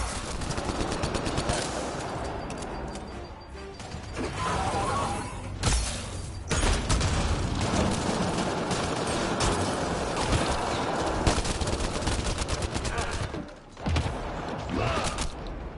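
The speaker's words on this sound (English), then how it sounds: "Enemy fire." Enemy gunfire in the video game Mass Effect Andromeda, a dense, continuous barrage of shots and impacts lasting throughout, loud and close with brief lulls, mixed with mechanical creaks and clatter.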